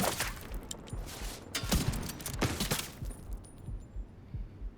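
Regulus exotic pistol fired in Division 2, a string of sharp broadband gunshots spaced irregularly across the stretch, loud and close amid game ambience.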